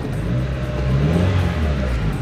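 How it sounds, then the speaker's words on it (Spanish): Car engine catching after a push start with no battery, then revving loudly and steadily up close, a rough mid-pitched roar with no voices. "Ahí el coche ya encendió."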